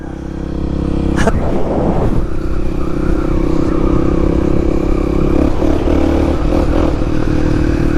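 Motorcycle engine revving loudly and steadily up close while the rider pulls a wheelie, with a brief clatter near the start and a continuous rough drone throughout.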